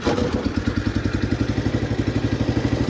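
Small engine of an old John Deere 300 lawn tractor with worn-out motor mounts, idling steadily after sitting abandoned for fifteen years, close and loud with a rapid rhythmic chugging clatter.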